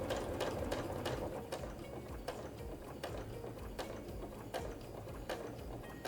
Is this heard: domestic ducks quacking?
no